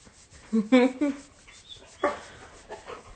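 A small dog whimpers and gives a few yips and barks indoors, in short bursts close by with quiet stretches between them, while a person talks in the background.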